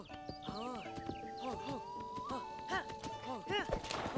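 A horse in the video game Zelda: Breath of the Wild whinnies in a run of bright, wavering neighs close up, with clopping and other game sounds around them.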